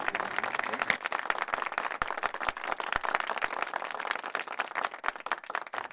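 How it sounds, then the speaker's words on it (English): A business event audience claps, thinning and scattered at first with sharp individual claps, then filling into fuller applause that stays fairly quiet and distant. "Round of applause, ladies and gentlemen."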